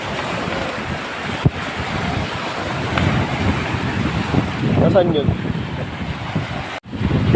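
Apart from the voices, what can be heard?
strong wind and big ocean waves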